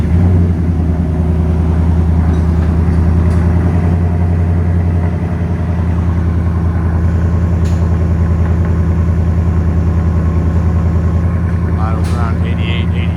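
A 2021-2026 Ford F-150 5.0L V8 idling with an aftermarket muffler, heard from inside the cab as a steady deep low rumble with a throbbing pulse, a voice speaking over it.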